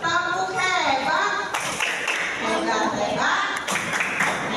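Children's voices chant "tepuk hebat" while clapping in a rhythmic pattern, loud and busy, the claps blending into the group's singing.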